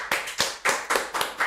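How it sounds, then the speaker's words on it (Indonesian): A small group claps in a few loose, uneven bursts, with about six distinct beats in quick succession that sound close and fairly sharp. "Jadi kita tepuk tangan dulu semua ya."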